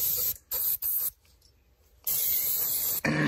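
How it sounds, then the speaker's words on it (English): Degreaser sprayed onto parts of a barn-find Honda CT110 motorcycle comes in several close, loud hissing bursts. Two short quick sprays and a longer one are followed by a pause, then a sustained spray and a final burst. "I want to hit this with a little bit of degreaser"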